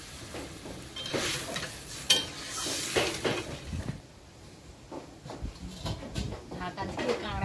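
Spices with salt and turmeric fry in a pan in a rural Sundarbans kitchen, a soft sizzle with stirring and scraping noises that fade partway through. Someone talks over the cooking.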